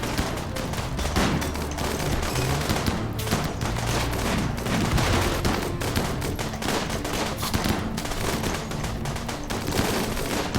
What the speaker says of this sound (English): Soak up some of those rocket launches.